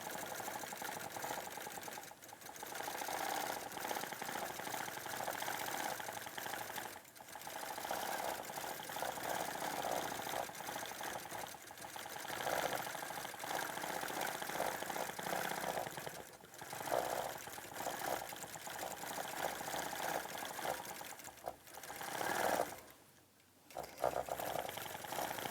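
Home sewing machine quilting a curvy zigzag over fabric seams, a steady fast mechanical whir that runs continuously for long stretches, broken by a few short pauses.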